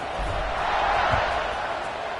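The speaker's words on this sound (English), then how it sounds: "this crowd is buzzing after that last score" Stadium crowd at a college football game between Texas A&M and Penn State, a steady broadband roar of many voices filling the whole stretch without pause, loud and continuous with no single voice standing out.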